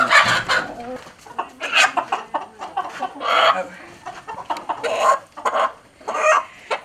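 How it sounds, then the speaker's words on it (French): Chickens on a poultry farm in Bouaké cluck in repeated short bursts, loud and close, with busy overlapping calls and brief pauses between clusters. "il nous a montré comment il fallait s'occuper des poulets"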